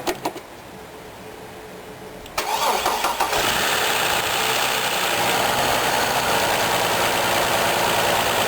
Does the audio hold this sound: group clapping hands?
no